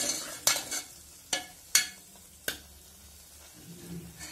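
Sweet-sour ambat chuka bhaji cooks in a pan, and a spoon strikes and stirs it in four or five sharp, separated clinks. A quiet, low simmer fills the gaps between them, and there is no talk.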